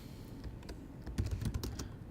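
Short burst of typing on a computer keyboard as a caption is entered into an email editor, soft clustered key taps close by, with no voice.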